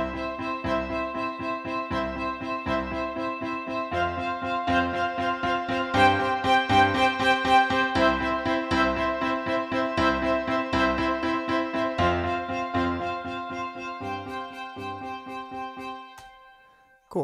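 Humanized MIDI performance with varied note velocities and slightly shifted timing, a repeating keyboard pattern at moderate level with uneven accents, ending with a decay into silence.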